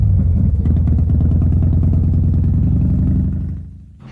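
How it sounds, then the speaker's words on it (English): Several motorcycle engines at a bike rally rumble and clatter loudly and steadily at close range, their low throbbing sustained for about three seconds before fading away. "all these engines roaring makes me want to go out and go for a spin"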